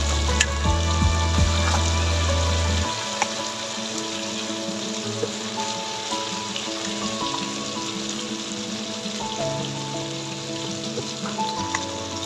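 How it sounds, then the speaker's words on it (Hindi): Steady sizzling and crackling of spices frying in a hot pan for a chicken masala dish, continuous and fairly loud throughout. "मसाले के अंदर भून लेंगे एक बार। वो इसके अंदर डाल देंगे।"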